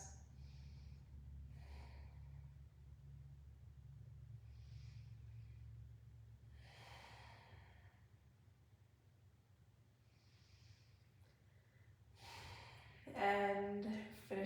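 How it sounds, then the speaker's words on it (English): Slow, deep breaths during a gentle yoga flow: soft airy inhales and exhales, several in a row at a relaxed pace, close and quiet over a low room hum, with a louder rustle at the end. "Take 3 more breaths."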